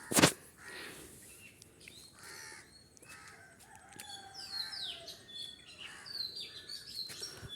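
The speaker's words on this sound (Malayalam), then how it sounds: "കാക്ക" A crow caws among other chirping birds outdoors, harsh calls rising over soft background twittering after a sharp knock at the start, heard alone without speech.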